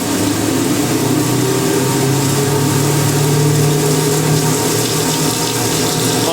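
A 1980s Ariston by Colston Electronic 3000 spin dryer whirs steadily as its drum spins up, a loud continuous motor hum with a rising pitch and a broad rushing, watery hiss, with no talking.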